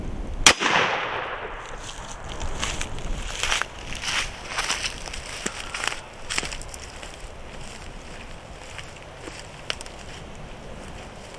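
Gunshots fired at hardened steel armor plate samples outdoors: a loud sharp crack at the start, then several fainter sharp impacts and pops spread across the clip over wind noise.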